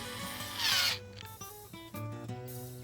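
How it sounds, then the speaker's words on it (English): Self-closing gate hinges with concealed springs being bolted to base plates on a gate and post, heard as brief close ratcheting and tool clicks with a short whirring burst, fairly quiet and without talk. "Then bolt the hinges to the plates."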